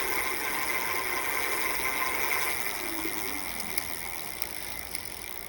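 An ENVO Lynx bicycle wheel spins freely through its gears after a derailleur adjustment, giving a faint, steady whirring tick with a few light clicks, close by and quiet.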